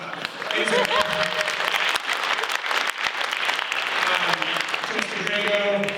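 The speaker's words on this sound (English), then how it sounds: "To Mr. Drago, please clap." Audience applause fills a school auditorium at a combined high school band spring concert, steady dense clapping lasting the whole stretch, with a voice speaking faintly beneath it.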